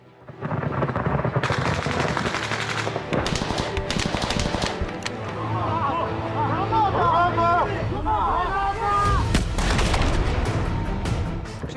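Machine gun fire during a tank battle at Avdiivka: dense, loud bursts of automatic shots that run together, with shouting and radio-style voices mixed in over the clatter.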